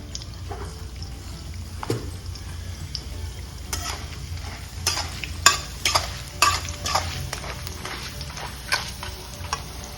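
Mustard seeds, cumin and chana dal sizzle in hot oil for red amaranth fry, a close crackling hiss with scattered sharp pops and scraping stirs growing busier midway.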